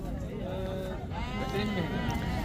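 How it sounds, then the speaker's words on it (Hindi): Sheep bleat repeatedly at a busy livestock market, with wavering, overlapping calls close by against a steady crowd murmur, while someone talks over the animals. "गब्बन भेड़ है माशाल्लाह"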